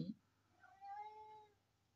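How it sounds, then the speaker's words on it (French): A domestic cat gives a single drawn-out meow indoors, moderately close and fairly quiet, after a brief soft noise at the start; no talking is heard over it. "Oui, c'est un chat qui discute."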